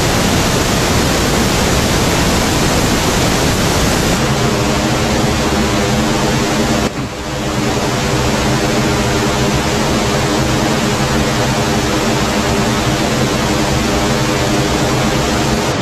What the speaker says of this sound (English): So this is one of the McDSP delays, the EC300 thing.